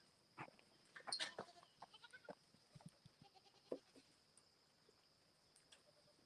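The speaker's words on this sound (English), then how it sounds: "still working with the goats over here." Goats on a farm bleat in the morning, several short calls coming at irregular intervals, some close and some farther off, over a quiet outdoor background without talking.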